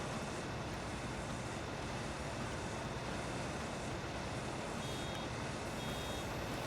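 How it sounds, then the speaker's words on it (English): A bale wrapper's alarm in Farming Simulator 19 beeps faintly a couple of times over a loud, steady drone of farm machinery, with no talk. "we'll stop here because the alarm's going off"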